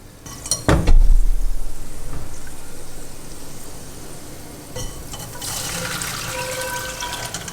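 Hot rendered pork fat is poured from a pot through a strainer, starting with a sharp metallic clank and a loud splashing pour that settles into a steady trickle, then a brighter sizzling patter of liquid toward the end.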